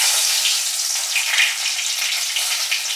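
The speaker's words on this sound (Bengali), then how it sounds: "এবারে আমি একটু তেজপাতা আর শুকনো লঙ্কা এখানে ফোড়নে দেবো" Bay leaf and dried red chili crackle and sizzle in hot oil, a steady close, loud frying hiss that runs without a break and carries no voices.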